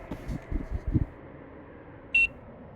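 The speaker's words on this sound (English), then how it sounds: "press down until you hear a beep" A single short electronic beep sounds from a box after it is pressed down, clear and brief, following a few soft handling knocks and thumps.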